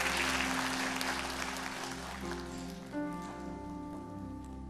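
A congregation claps at a Sunday church service for a newborn child, a dense steady patter heard alongside sustained organ or keyboard chords that continue throughout.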